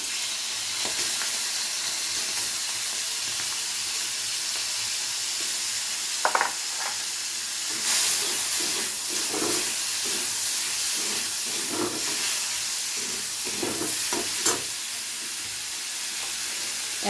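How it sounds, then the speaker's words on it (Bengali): Shrimp fry in hot oil seasoned with turmeric and salt, making a steady loud sizzle and hiss with scattered clinks and scrapes of stirring throughout, and no talking. "এবারে চিংড়ি মাছগুলোকে ভেজে নেব।"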